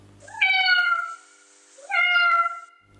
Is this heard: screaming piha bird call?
no